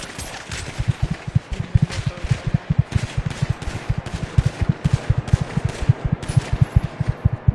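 Rapid video-game gunfire, loud close bursts of automatic shots in quick rhythmic succession, steady throughout with no speech.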